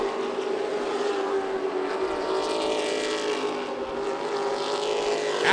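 Race trucks speeding around Myrtle Beach Speedway, a steady mid-pitched engine roar with passing swells carried from a distance, continuous and moderately faint, without talk.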